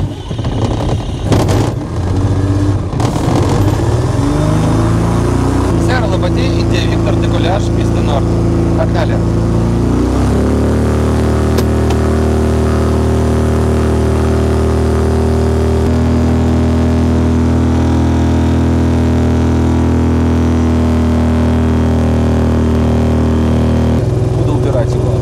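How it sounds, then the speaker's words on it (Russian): Motor glider's small engine starting up in flight, first sputtering, then settling into a loud, steady drone with a constant pitch, heard close from inside the cockpit. "запускаю мотор"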